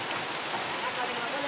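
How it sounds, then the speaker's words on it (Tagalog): Heavy rain pours steadily onto a hut roof in the mountains, a dense, even hiss of drops that stays loud and constant throughout with no break. "Lakas ng ulan mga kabansa."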